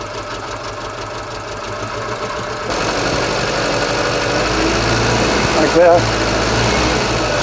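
An old Żuk engine with a wrecked valve seat and bent pushrods runs nearby with a rough, knocking idle that grows louder partway through, while a person talks briefly over it.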